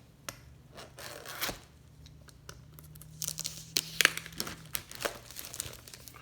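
Outlaw Racing gaskets for a YZ125 two-stroke engine being handled, with soft plastic packaging crinkling and rustling in short bursts, some sharper crackles midway, close and fairly quiet with a low steady hum beneath.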